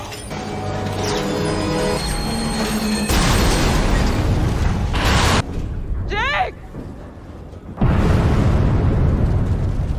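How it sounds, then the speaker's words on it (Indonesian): Improvised homemade bomb detonating in a film scene, a loud booming blast with rumbling debris and crashing, followed by a sudden quieter whooshing passage and then another loud roaring burst. "Drea yang sudah selesai menyalakan bom rakit"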